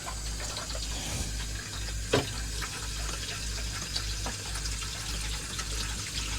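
Water runs steadily from a loose plumbing fitting under a filling half-bath sink, a continuous close splashing trickle with a few brief knocks.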